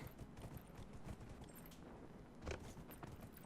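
Horse hooves clip-clopping in the video game Dragon Age: Inquisition, a faint steady patter of hoofbeats over low background ambience with one slightly louder thud near the end.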